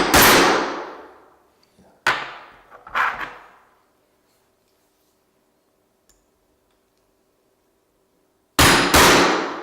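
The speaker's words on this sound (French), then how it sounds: "Tu le tiens bien entre les doigts, voilà, et un petit coup de marteau sec" A hammer strikes a letter punch into a metal military dog tag: a sharp metallic tap, a double knock a moment later, then a long quiet before two more quick hard blows near the end.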